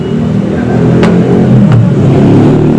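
A car with a push-button start/stop engine runs at a steady idle, its low continuous hum close and even throughout.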